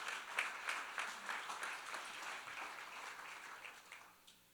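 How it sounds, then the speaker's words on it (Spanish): A church congregation applauds during a Sunday worship service, a steady wash of many hands clapping at moderate distance that fades out toward the end, with no talking over it. "Démosle un aplauso al Señor"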